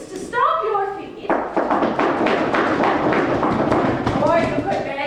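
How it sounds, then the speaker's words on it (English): An audience stomps their feet in a dense, irregular flurry of thuds, with a voice speaking just before and again as the stomping trails off. "You may choose to stomp your feet,"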